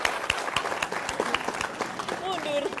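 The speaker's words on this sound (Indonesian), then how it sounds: "Tepuk tangan dulu." A studio audience at a televised youth motivation talk show claps in a brief burst, crisp individual hand claps close by, mixed with people talking and a higher-pitched vocal sound near the end.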